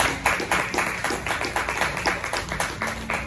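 A church congregation claps in a steady rhythmic beat during a worship service, the even claps filling the room throughout, with faint voices beneath.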